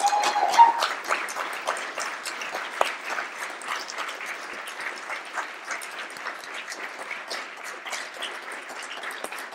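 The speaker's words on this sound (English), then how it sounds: "please join me in a warm round of applause for today's recipients." Audience applause at an accessibility awards ceremony, a steady, dense round of clapping from a sizeable crowd that holds at an even level throughout with no voices over it.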